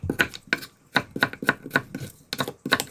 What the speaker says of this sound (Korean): 굵은 채를 썰어주세요.